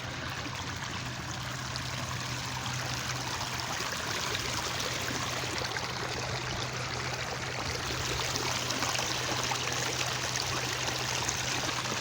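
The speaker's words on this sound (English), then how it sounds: "This little creek winds around because here it is again." A small creek flows steadily outdoors, a continuous close rush and trickle of water that holds even for the whole stretch with no talking.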